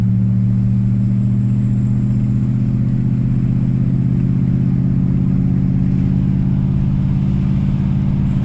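A truck on new tires drives down the road, giving a loud, steady low engine drone and rumbling tire noise throughout with no speech.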